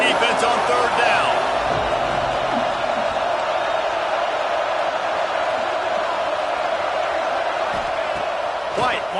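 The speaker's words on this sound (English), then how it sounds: "Decibels rising as the crowd gets behind this defense on third down" A stadium crowd in an American college football video game, Baylor versus Florida, roars steadily on a third-down defensive stand, a dense sustained wall of noise with a commentator talking over it.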